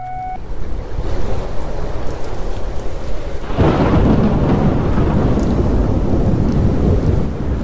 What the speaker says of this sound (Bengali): বাইরে প্রচণ্ড ঝড় বৃষ্টি আরম্ভ হয়েছে